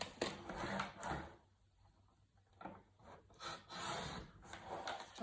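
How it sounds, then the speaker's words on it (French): Paper for a scrapbook album page is cut in a few close, soft rasping strokes, with a quieter pause midway and then more cutting and rustling; no speech is heard. "Oui, il va falloir que je coupe."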